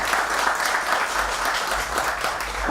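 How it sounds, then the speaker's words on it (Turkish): Steady, moderately loud applause from an audience at a Turkish political party meeting, a dense wash of clapping without pause. "Kocaman bir alkış sizlerle."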